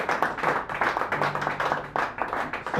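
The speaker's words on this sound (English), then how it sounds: "I love that you have to clap a little." A small open-mic crowd in a San Francisco cafe claps briefly and lightly, a scattered patter of hands that stays steady for a few seconds with no one speaking over it.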